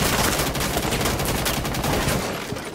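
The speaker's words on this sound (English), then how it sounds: "I'm gonna shoot the whole thing down." Gunfire in the tactical shooter Rainbow Six Siege, a loud, close, continuous automatic burst with rapid rattling shots that eases off slightly at the end.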